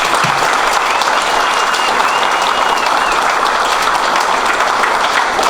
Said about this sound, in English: let's give all the veterans a round of applause